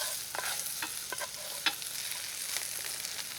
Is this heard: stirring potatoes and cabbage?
yes